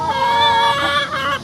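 Chickens cluck and call in a steady, close chorus at a rural conserve in Marion County near Citra, Florida, with overlapping rising and falling notes throughout.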